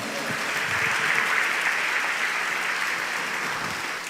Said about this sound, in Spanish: Dele una palma de aplauso al Señor.